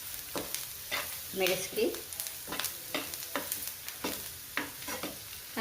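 Raw mango pieces cooking in a pan with green chilies and spices, a soft sizzle broken by repeated scraping stirs at an uneven rhythm, with a brief spoken word in between.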